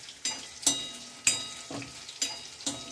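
Onions and tomato sauté in a pan for a ladyfinger onion vatha kuzhambu, a soft steady sizzle broken by several sharp stirring scrapes at irregular intervals, close and fairly quiet.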